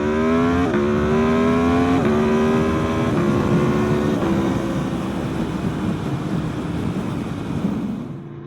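An Aprilia Tuono V4 Factory 1100 motorcycle revs up through several gears, its V4 engine note climbing and dropping with each quick shift before fading away, loud and close with wind rush and no talk.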